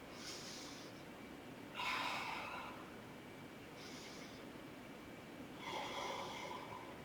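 Slow, deep yoga breaths come through the nose, two long airy inhale-exhale cycles with breathy rushes of air, close and fairly soft, with no talking.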